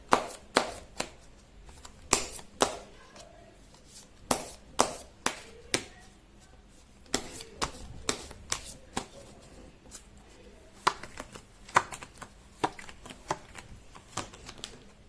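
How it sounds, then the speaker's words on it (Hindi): Tarot cards shuffled by hand, a run of crisp riffling snaps and taps coming in quick irregular bursts with short pauses, close and fairly quiet, with no voices. "कर लेती हूँ कार्ड की शफलिंग"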